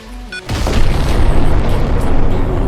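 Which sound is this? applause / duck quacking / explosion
explosion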